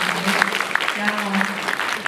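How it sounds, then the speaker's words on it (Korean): A crowd at a mental health day ceremony applauds briefly, a steady patter of clapping with a voice present throughout. "박수 한번 보내주시기 바랍니다"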